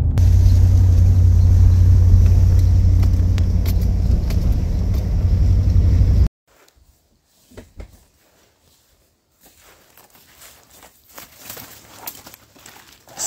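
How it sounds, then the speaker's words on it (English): A car drives along toward a moose hunting spot, a loud steady road rumble from inside the vehicle for several seconds before it cuts off, leaving faint quiet outdoor sounds and a few soft footsteps. "We're driving up to our spot right now."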